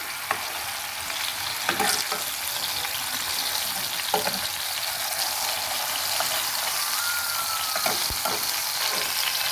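Tandoori chicken fries in a pan with a continuous close sizzle and occasional stirring or turning clinks, with no talking.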